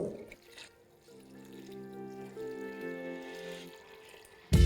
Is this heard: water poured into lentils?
yes